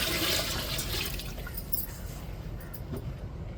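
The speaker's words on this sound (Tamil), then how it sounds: "இப்போ சேர்த்துக்கிடுவோம் தண்ணியை" Water pours steadily into a pot of rice and chicken, making a continuous rushing splash that gradually settles over a few seconds.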